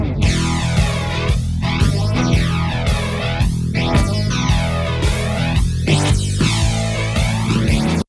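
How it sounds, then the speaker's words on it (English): A heavy tape flanging effect is applied to a music mix, producing deep sweeping comb-filter whooshes that rise and fall in repeated arcs over the full track, loud and dense, with a brief word spoken at the very end. "you can hear it as a really crazy tape flanging effect"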